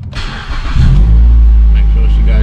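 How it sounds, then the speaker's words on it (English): A 2012 Mazda 3 engine cranks and catches after a crank, then settles into a loud, steady idle rumble close by, with talk over the start. "And now we're going to start the car."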